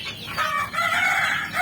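Chickens on a farm with hundreds of birds cluck and crow, a short burst of close fowl calls with a rising rooster-like crow.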